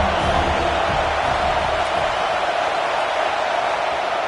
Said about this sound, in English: The Tide crowd roaring noise down on the Saban field on third down.